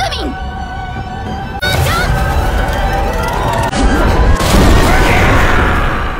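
An anime explosion spell cast by Megumi, a heavy booming blast followed by sustained rumbling crashes and debris noise, loud and close, with talk over it.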